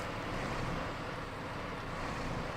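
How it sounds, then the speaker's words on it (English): A truck engine in Snowrunner driving down a steep road, a dense, steady roaring drone with no breaks, loud and broadband, mixed with rushing noise like wind. "we can listen to the best engine sound in the game as I drive it back down the Razorback"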